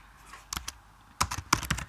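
Keys on a computer keyboard tap in a brief cluster, a pause, then a quick run of close, crisp strokes.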